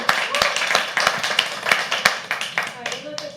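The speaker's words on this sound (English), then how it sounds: "Round of applause for Nimisha, ma'am." Audience applause at a live poetry open mic, a burst of sharp, uneven hand claps from a small nearby crowd that carries on steadily and fades slightly toward the end.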